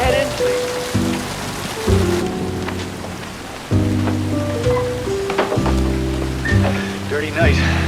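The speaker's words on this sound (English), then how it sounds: "didn't hear you in all this rain." Heavy rain hisses steadily on a stormy night beneath a loud, moody musical score of sustained low chords, the downpour filling the background throughout.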